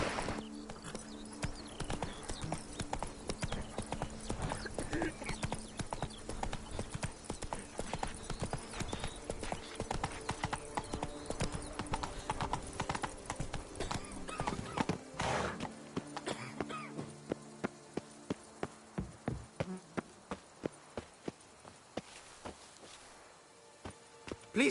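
Horse walking and whinnying in the Witcher 3 video game, steady clip-clop hoofbeats under game music and ambience, with the hooves slowing to sparse, distinct steps near the end.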